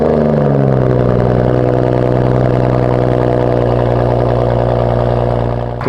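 A BMW E92 335i with a muffler-delete exhaust fires up and settles into a loud, deep, rumbling idle close by, steady throughout with a slight drop at the end.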